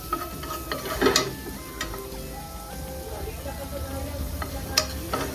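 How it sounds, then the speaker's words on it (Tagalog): Chopped onions sizzle and crackle in a hot pan for a red wine reduction, with a steady frying hiss and occasional sharp clinks of a utensil stirring against the pan. "Gisa nyo lang yung sibuyas"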